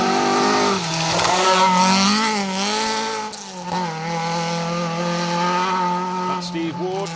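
Rally car 67 drives past with a strong, sustained engine note that climbs and dips through several gear changes, close and loud, while someone speaks over it.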